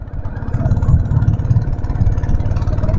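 A boat engine on a river drones steadily close by, a mid-pitched continuous motor hum with a slight rhythmic throb and no speech.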